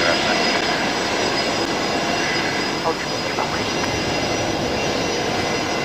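A Qantas Airbus A380 jet passes on the downwind leg near Brisbane Airport at about 10,700 feet, giving a steady, distant, broad engine roar that holds evenly throughout.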